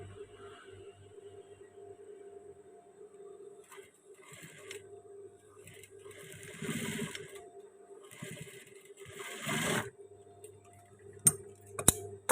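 A sewing machine stitches a waistband with a soft, steady mechanical whirr and light ticking, broken by short louder clatters toward the end. No one speaks.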